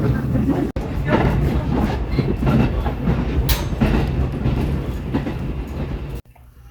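Fuji-Q Railway train at Otsuki Station in Japan, a loud steady rumble of rolling wagons with faint clickety-clack running for about six seconds before stopping abruptly.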